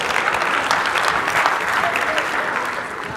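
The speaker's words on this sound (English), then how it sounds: "I'll let her know that you clapped for her." A conference audience gives loud, dense, sustained applause that fades slightly toward the end.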